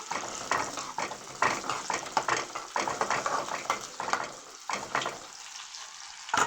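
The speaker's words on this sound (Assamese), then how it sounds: "পিঁয়াজখিনি অলপ ৰঙচুৱাকৈ ভাজিম।" Onions frying in a hot pan for a goat meat curry, a close, crackling sizzle broken by repeated stirring scrapes, with brief quieter gaps near the end.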